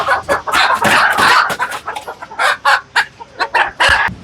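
A loud, busy chorus of country chickens clucking and squawking up close at a chicken shop, with overlapping calls, a crowing rooster and no talk.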